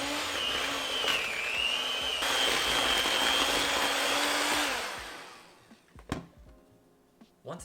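An electric mixer beats butter and sugar in a bowl, a loud steady whir that winds down after about five seconds, followed by a few clinks and knocks.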